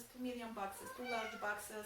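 A pet cat meows several times at home, the calls clear and nearby, rising and falling, while a person talks over them.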